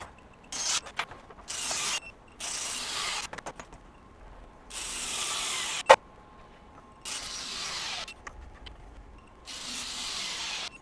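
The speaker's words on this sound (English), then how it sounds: "we've retorqued all our fasteners" A Snap-on CT9015 mid-torque impact wrench retorquing fasteners, heard as a series of loud, close bursts of rapid rattling hammering, each lasting one to two seconds, separated by short pauses, with one sharp metallic clank midway and no talk.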